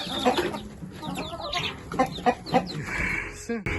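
Chickens clucking steadily at close range while they feed on a scratched-up pile in a farmyard, with a few louder calls standing out and faint background noise.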